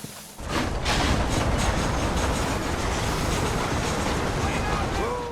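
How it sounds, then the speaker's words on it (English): A train rolls past in the Red Dead Redemption video game, a loud, steady rumble of wheels and rail cars that builds quickly and holds for several seconds, with faint voices beneath it. "We wait for the train to go by."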